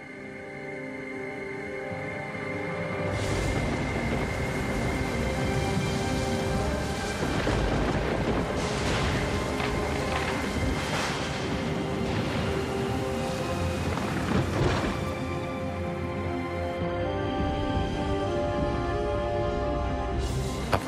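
Heavy rain pours steadily for about twenty seconds while rumbles of thunder roll through it, with a louder burst near the middle, evoking the storm of the biblical flood.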